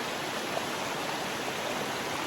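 A river flowing nearby in a steady, even rush of water, hissing without a break at moderate loudness and with no voices.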